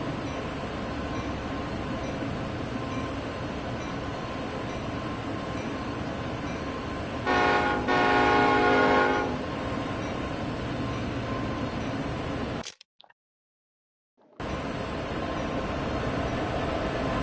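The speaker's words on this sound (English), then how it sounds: "Past another train." Locomotive rumble in the Train Sim World 2 Sherman Hill route as another train passes, with a steady broadband roar, a brief louder horn-like tonal burst near the middle, then a sudden dropout to silence before the noise resumes.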